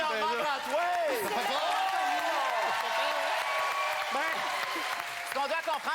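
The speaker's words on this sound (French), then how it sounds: "On applaudit Normand Brantois." An audience claps steadily throughout while a lively voice talks and calls out loudly over the applause.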